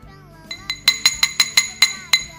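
Glass cup tapped around nine times in an uneven rhythm, producing clear, bright ringing clinks close to the listener, starting softly and growing firmer.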